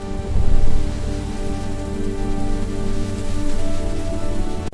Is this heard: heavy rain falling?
yes